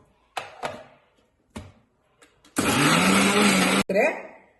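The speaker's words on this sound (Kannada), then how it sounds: "2 ನಿಮಿಷ ಮಿಕ್ಸಿಗೆ ಹಾಕೊಂಡ್ರೆ ಸಾಕು, ನೈವಾಗಿ ರುಬ್ಬುತ್ತೆ" A kitchen mixer grinder whirs loudly for about a second as it grinds doddapatre leaves into a smooth paste, preceded by a few clicks and handling knocks, with speech around it.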